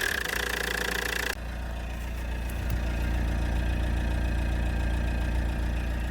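A Renault 19 car engine idles smoothly, a steady low rumble close by, after a brief louder higher-pitched stretch at the start, with no talk.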